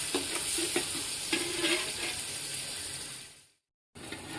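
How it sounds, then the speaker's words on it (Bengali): Sliced onions fry in oil until crisp for beresta, a loud, busy sizzle with the scrape and clatter of a spatula stirring near the start. The frying fades, drops to silence briefly, then resumes near the end. "এখন আমি পেঁয়াজ বেরেস্তা করে দিচ্ছি।"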